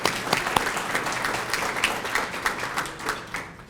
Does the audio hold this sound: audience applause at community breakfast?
yes